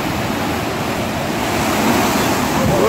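Tsunami waves in Morocco surge and crash in a continuous, roaring wash of surf that grows slightly louder toward the end, with no voices.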